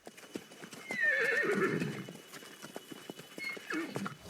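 Horses on a farm in the Brazilian film Bacurau clop their hooves steadily while one neighs in a loud, drawn-out whinny, followed by a fainter second call near the end.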